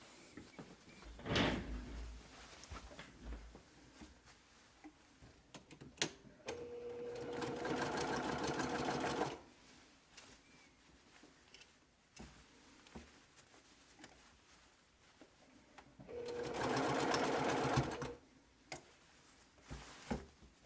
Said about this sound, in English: you're just going to sew a 1/4 inch seam right across this top edge